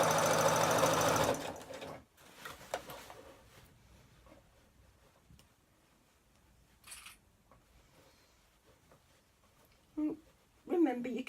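A sewing machine stitching across thick bag handles runs in a loud, fast, even whir for under two seconds and then stops. A long, quiet stretch follows with faint handling sounds and a few brief clicks.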